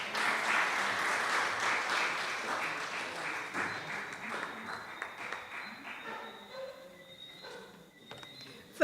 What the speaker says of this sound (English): I don't think that round of applause was right.